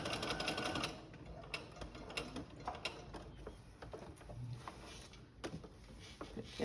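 Domestic sewing machine back-stitching the seam of a toddler romper: a steady mechanical whir with rapid ticking needle strokes and small clicks, running close and continuous with short pauses.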